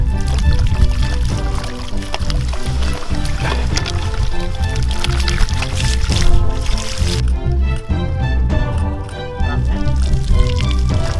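Bleak fish being released from a keepnet into water during a fishing session, a dense continuous stretch of splashing, pouring and wet squishing, loud and close throughout, with no talking.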